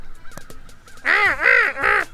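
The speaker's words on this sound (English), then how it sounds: "Does anyone like the sound of a crow, especially early in the morning?" Crows outdoors near a truck camper, heard in the morning: faint calls at first, then three loud, harsh caws in quick succession close by, with no talk.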